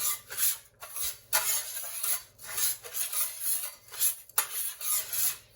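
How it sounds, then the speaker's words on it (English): Utensil stirring flour and panko in a bowl, a repeated scraping and clinking in rhythmic bursts, close and soft with no voices. "I'm going to stir it up a little bit."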